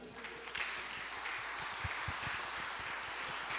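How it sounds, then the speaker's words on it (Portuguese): Light, scattered applause from a small church congregation during a Bible study, soft and somewhat distant, with individual claps picking out an uneven rhythm and no voices over them. "salva de palmas para o Senhor"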